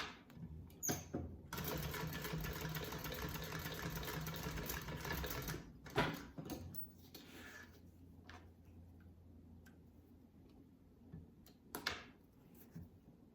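Sewing machine back-stitching a minimalist men's fabric wallet, a loud close continuous whirring run of about four seconds, then brief handling clicks and quiet shuffling with short bursts of stitching.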